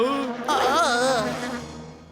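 A cartoon housefly buzzes with a wavering, whining drone that swoops up and down in pitch, close and fairly loud, then slowly fades over about two seconds.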